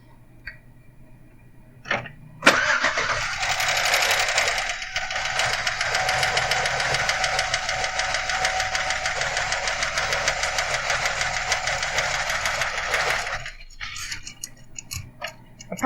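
A hot engine with a faulty lifter runs steadily for about eleven seconds, a fast, even metallic ticking riding over the idle, close and loud, starting abruptly and cutting off near the end with no talk.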